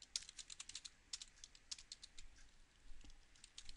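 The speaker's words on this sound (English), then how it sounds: "Man, I am typing really horrible today." Quiet, rapid typing on a computer keyboard, clicks coming in uneven bursts with brief pauses, close and soft.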